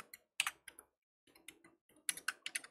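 Typing JavaScript code on a computer keyboard: scattered bursts of quick key clicks separated by short pauses, close and fairly quiet, with no talking.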